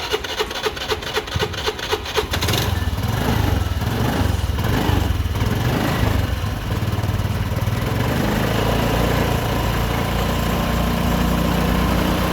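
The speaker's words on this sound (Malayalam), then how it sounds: "അപ്പോൾ നമുക്ക് കാർബറേറ്ററിനുള്ളിലെ പെട്രോൾ വാഹനം സ്റ്റാർട്ട് ചെയ്ത് എരപ്പിച്ച് വറ്റിക്കാം." A Honda Activa scooter engine starts after a brief mechanical rattle, then runs steadily at a loud, continuous revving hum, burning off the petrol left in its carburetor; no one speaks.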